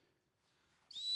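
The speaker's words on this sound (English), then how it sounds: "She doesn't know what that whistle means." A dog training stop whistle gives a single sharp, high, steady blast that starts abruptly at the end after near silence.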